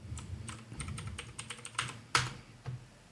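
Quick, irregular clicks of a computer keyboard fill a few seconds at close range, with one sharper keystroke standing out near the end, no voices.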